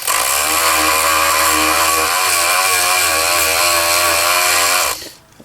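A rotary power tool spins at a steady, loud, high whine while grinding the loading port of a Stoeger M3000 shotgun, running for about five seconds before winding down.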